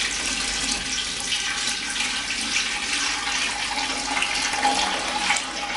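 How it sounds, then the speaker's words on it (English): Tap water pours steadily into a large stock pot for canning jars in a home kitchen, a continuous even hiss and splash with no break and no talking. "I'm just gonna fill this up with some water"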